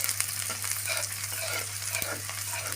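Banana stem, taro stems and cut potato frying in hot oil in a village kitchen, a steady bright sizzle running continuously with light stirring scrapes, close and fairly loud, no talking.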